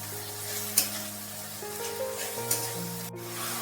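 Fish head and lentils sauté in a pan as a little hot water is poured in, giving a steady, moderate sizzle with a few soft scrapes and clinks of a spoon.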